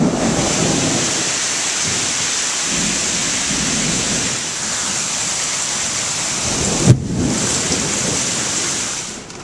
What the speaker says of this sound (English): We had a crazy thunderstorm that came through